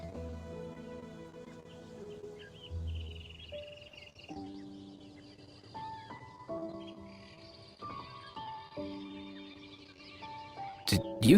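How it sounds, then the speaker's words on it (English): A wild animal call in a video game rings out as a few tonal, chirping cries over game ambience and soft music, moderately distant, with no talking. "Sounded like an animal call."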